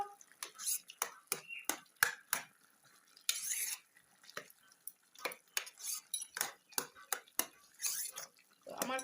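Pumpkin curry being worked in a pot with a metal ladle, giving a rapid series of loud, sharp clinks and scrapes against the pot, separated by short pauses, close up.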